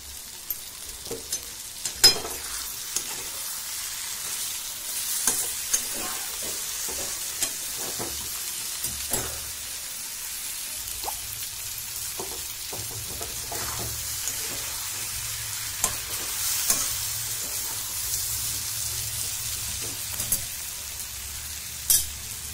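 Okra masala frying and being stirred in a pan, with a steady low sizzle and a series of irregular spoon scrapes and clatters spread across the whole stretch.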